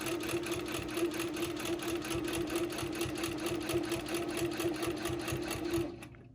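A sewing machine runs steadily, quilting close rows of stitches around a corner of fabric, with a continuous whirring rhythm that stops abruptly at the end.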